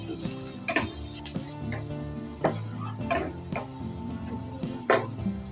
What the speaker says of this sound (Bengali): পেঁয়াজটা একেবারে আমরা লাল লাল করে ভেজে নিব।